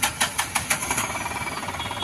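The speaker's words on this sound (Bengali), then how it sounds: "এই হচ্ছে গাড়িটার ইঞ্জিনের সাউন্ড যদি আপনাদের শুনিয়ে দেই" A TATA pickup truck engine with about 122,000 km on it runs close by, giving a rough, rhythmic diesel-like chugging with regular pulses that settle into a steadier idle.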